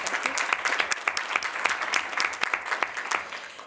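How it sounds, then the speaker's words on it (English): A conference audience at a climate and health event applauds its speakers, with steady, moderately loud clapping from many hands and crisp individual claps standing out throughout. "give them a round of applause for being here"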